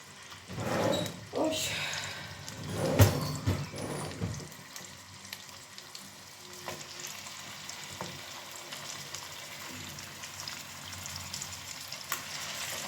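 Chicken pieces fry in a hot pan over a strong flame, a loud crackling sizzle with clattering stirring early on, then a steadier, quieter hiss while a voice talks nearby.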